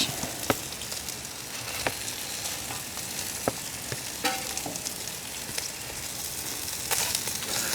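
Bacon and sausages sizzle on a Weber Traveler 22-inch portable griddle outdoors, a steady crackling fry with sharp pops and occasional spatula scrapes, no talking.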